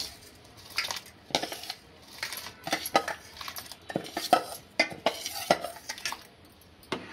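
Washed rice, about half a kilo, tipped into boiled milk for Bengali payesh and stirred, giving repeated close metal-on-pot scrapes and clinks in an uneven rhythm with no talking.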